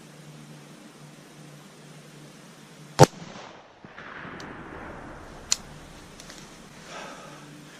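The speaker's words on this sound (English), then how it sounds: "I made that shot one hand on the rifle with this FieldPod" A single sharp rifle shot fired from a Caldwell DeadShot FieldPod adjustable shooting rest cracks out once, loud and close, with a fainter later report and outdoor background noise afterward.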